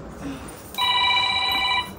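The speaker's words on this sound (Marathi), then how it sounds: "व्हिडिओ कॉल आलाय." A phone rings with an incoming video call, a short bright electronic tone that starts abruptly and holds for about a second over faint background chatter at a family birthday celebration.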